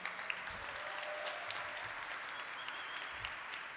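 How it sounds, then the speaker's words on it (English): Audience applause fills a City Hall International Women's Day celebration, a steady wash of many hands clapping with no voices over it. "let's give a round of applause for what's going to be a great event today."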